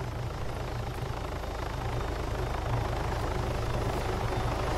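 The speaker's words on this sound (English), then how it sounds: "Where's the chopper going? To our hill?" A helicopter in a police shootout video game, its steady rotor thrum and engine drone filling the whole stretch, loud and unbroken.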